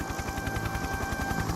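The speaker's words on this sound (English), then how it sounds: "Just then, Harold the helicopter arrived." A cartoon helicopter arriving in a children's animated railway story, heard as a fast rhythmic rotor chop that thuds steadily throughout, loud and close, with no talk.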